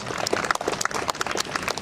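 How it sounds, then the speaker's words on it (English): An audience applauds at a Philippine community gathering honoring a guest in native outfit, with steady, fairly faint clapping from many hands and no voices over it. "A round of applause, because I know she's over here in her native outfit"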